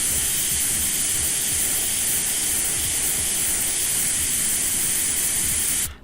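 Iwata airbrush spraying lightly coloured water, a steady, close hiss of air and fine spray running continuously for several seconds before cutting off at the end.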